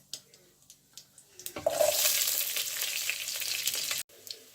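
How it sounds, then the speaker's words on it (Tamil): Chopped garlic sautéing in hot oil with fenugreek seeds for an eggplant curry breaks into a steady, bright sizzle after a few soft clinks, holding loud and even for about two seconds before cutting off. "இப்போ வெட்டி வச்சிருந்த பூண்டு எல்லாத்தையும் வதக்க போறேன்."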